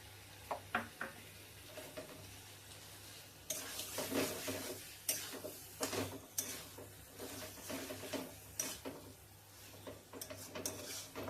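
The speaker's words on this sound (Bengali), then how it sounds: "এবার আমি একটুখানি চর্বি আর মেটেটা দিয়ে দিচ্ছি।" Mutton fat and liver sizzling in a hot pan with pepper spices, a steady crackle punctuated by bursts of stirring and sharp scrapes, close and moderately loud, with a low constant hum underneath.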